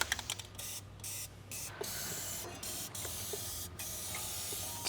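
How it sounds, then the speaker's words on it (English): Fluid Film rust-protection spray hisses from an aerosol can onto a V12 BMW 850CSi in several short bursts and then one longer steady spray, close and fairly quiet. "I'm gonna spritz that area over there vigorously"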